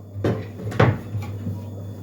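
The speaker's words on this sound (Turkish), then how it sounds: "Şimdi borcamımızı alalım." A cupboard door clicks and thuds twice in quick succession in a kitchen as a glass baking dish is taken out, over a steady low hum, with a faint knock afterward.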